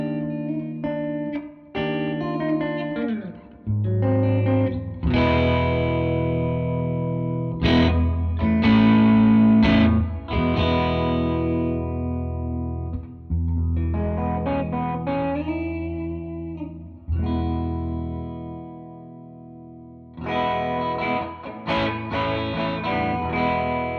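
An electric guitar plays through a Pigtronix Cosmosis stereo reverb pedal with the blend turned up, chords and single notes ringing out into long washy tails that swell and decay over about twenty seconds, loud and alone.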